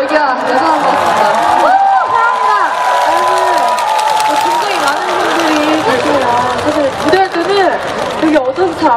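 A large crowd at a Yonsei University festival in Wonju cheers and shouts, a loud sustained roar with whoops and chatter, while close voices talk over it throughout.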